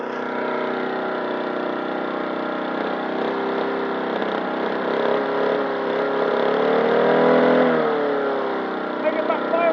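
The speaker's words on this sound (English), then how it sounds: "That's backfiring now, that one." A lawn mower engine runs at a steady drone, then swells briefly. A few sharp pops near the end fit backfiring from a glowing exhaust.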